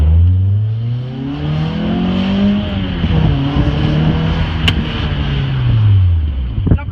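Car engine revving hard from inside the cabin, climbing in pitch through the gears with a shift partway, loud and close, with road and wind noise behind it.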